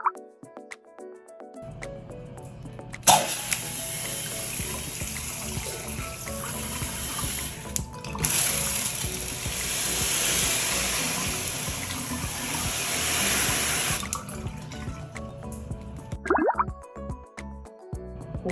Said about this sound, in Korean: 지금은 오른쪽 모드이기 때문에 샤워 분사인데